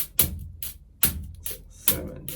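A cajon groove with the second eighth note slid to mimic an open hi-hat gives sharp slaps followed by smeared, sustained hissy strokes in a repeating pattern, close and alone.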